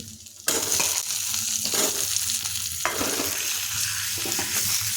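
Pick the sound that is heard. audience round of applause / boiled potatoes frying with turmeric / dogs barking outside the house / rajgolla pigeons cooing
boiled potatoes frying with turmeric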